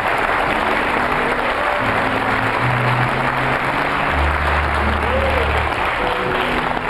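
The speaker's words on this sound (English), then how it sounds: "Come on, clap your hands." A church congregation claps steadily and loudly throughout, a dense continuous wash of applause, while sustained musical tones play underneath.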